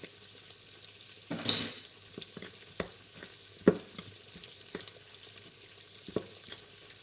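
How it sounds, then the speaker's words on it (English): Food sizzles steadily in a pan as it is mixed evenly with its juices, with scattered light scrapes and taps of the utensil and one louder clatter near the start, close and moderately loud, with no talking. "So you want to mix them evenly."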